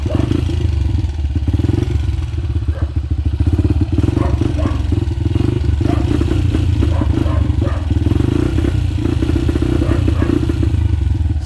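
A restored KTM 450 motorcycle engine idles loudly nearby, a steady rapid clattering putter with slight uneven thumps and no talk over it.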